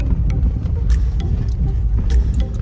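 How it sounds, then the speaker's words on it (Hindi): A car jolts over a rough off-road mountain track on the road from Leh to Padum in Ladakh, its suspension rattling and knocking in scattered bursts over a steady, loud low engine-and-road rumble, with no one talking. "सस्पेंशन भी आवाज़ कर रहा है"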